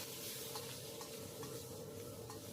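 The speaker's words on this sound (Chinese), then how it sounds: "从锅边加入料酒去腥增香" Cooking wine added from the edge of a hot wok holding fried pork, scallion, ginger and garlic: a soft, steady sizzle and hiss with light stirring, close but quiet, no talk.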